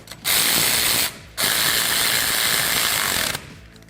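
A ratchet wrench tightens a castle nut onto a ball joint stud while an ATV A-arm is fitted on a Kawasaki Teryx KRX 1000, two loud, rapid ratcheting runs separated by a short pause, up close.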